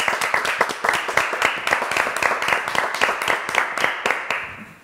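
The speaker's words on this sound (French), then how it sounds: "Tu vas prendre le micro, tu vas chanter là-haut et on va l'applaudir quand même, Joya quand même." An audience applauds a singer at a French live show, a dense, steady burst of clapping from many hands that carries on for the full few seconds.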